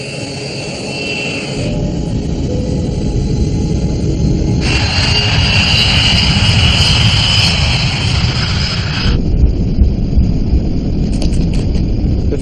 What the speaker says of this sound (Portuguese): pista 21, esquerda, liberada para decolagem.